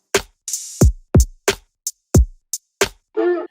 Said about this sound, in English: get some bouncy drums